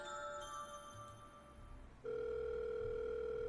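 A telephone in the horror video game Five Nights at Wario's 3 starts a steady, loud electronic ring tone partway through, after a quieter stretch of tonal hum, with no talking.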